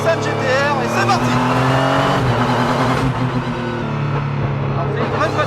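A 1120 kg, 550-horsepower competition race car powered by a Nissan GT-R engine accelerates hard, its loud engine note climbing through the gears with some tire squeal, and a voice is heard beneath the roar.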